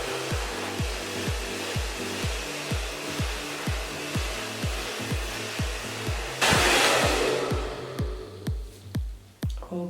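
Hair dryer blowing hot air on the root area while a brush lifts curly hair, a steady loud whoosh with rhythmic brushing strokes, surging briefly louder near the end.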